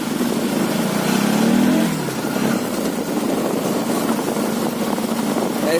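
A motorcycle rides along a road toward the Kadalukani Para viewpoint, its engine a steady, continuous drone mixed with rushing wind. The sound stays loud and close throughout, with a brief rise in engine pitch early on.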